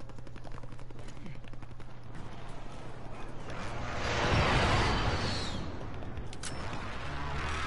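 Gunfire rattles in the shooter game Warzone, with rapid repeated shots running throughout and swelling into a heavier, louder burst midway, heard beneath faint voice chat.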